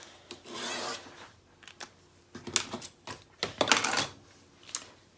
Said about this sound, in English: So I'm going to draw a line and use my scissors to trim it off.